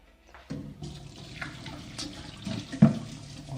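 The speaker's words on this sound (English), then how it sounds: "Let me clean my hands" Water runs steadily from a kitchen tap as hands are washed, a continuous close hiss of flow starting abruptly and carrying on with small splashy surges throughout.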